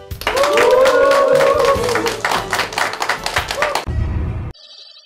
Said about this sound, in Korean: 영혼이 없는 함성 감사합니다